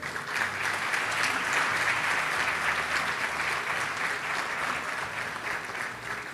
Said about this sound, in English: Please, big hand of applause to all of them.